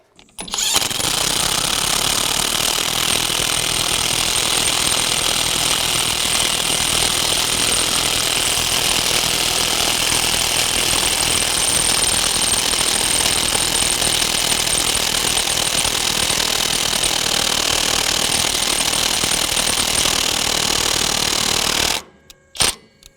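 Kobalt 24-volt brushless mid-torque 1/2 inch impact wrench hammering continuously for about twenty seconds, loud, close and steady, then stopping abruptly; no voices.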